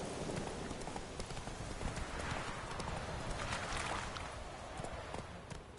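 Horse hooves gallop steadily across the ground in The Witcher 3, a dense and continuous drumming of hoofbeats with a faint rain-like hiss behind it. No voices are present.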